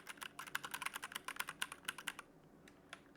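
Fast, close clicking on a small computer keyboard, with quick bursts of keystrokes that thin to a few scattered taps at the end.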